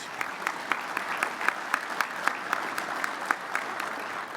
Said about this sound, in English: A special round of applause for our sustaining sponsors, please.